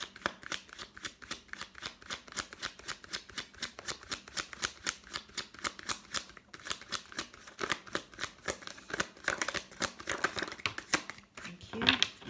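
Tarot cards being shuffled, a continuous rapid flutter of riffling card edges throughout, close but soft, with no talking.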